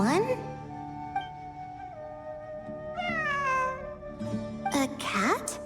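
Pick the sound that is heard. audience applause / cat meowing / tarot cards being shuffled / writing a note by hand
cat meowing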